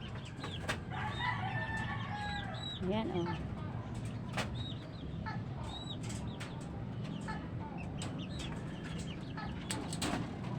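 Chickens clucking continuously with a rooster crowing among them, close by on a rooftop where calamansi grows, with a few brief spoken words over the flock.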